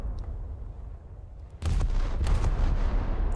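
Naval high-explosive gunfire in a warship video game, with a quiet stretch followed by a loud burst of heavy cannon fire and rumbling explosions that carry on to the end.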